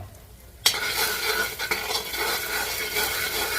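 Eggs being beaten and stirred in hot oil, a sudden loud sizzle and scraping that bursts in after a quiet moment, then continues steadily and busily to the end.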